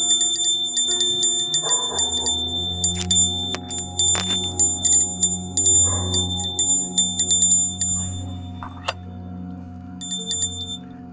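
A hand bell rings steadily during a home Shiva puja, bright metallic strikes repeating in a quick rhythm with lingering shimmer over a low sustained drone, no talk.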